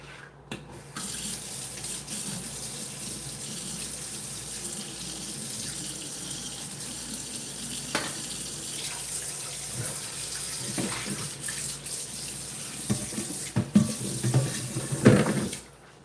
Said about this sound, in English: let me wash this knife off.